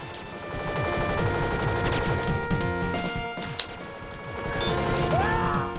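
Enemy ninjas fire guns in a Game Boy Advance run'n'gun game, a steady clatter of rapid chiptune shots over busy game music, loud and continuous with one sharp crack standing out.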